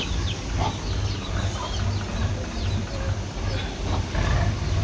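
Backyard hens and their grown chicks cluck and call repeatedly at close range, short scattered clucks over a constant outdoor rumble, with no talking.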